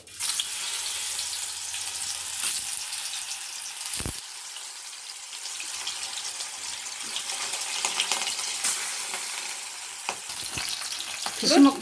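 Fish-shaped pieces of a mock fish curry frying in shallow oil with cumin, a steady close sizzle running throughout, with a brief stirring clatter and faint water-like hiss near the end.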